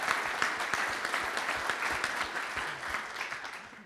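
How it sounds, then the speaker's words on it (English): A town hall audience gives a steady round of applause for an honoree, dense clapping heard at a moderate distance and fairly faint, fading slightly toward the end. "Round of applause for Pam."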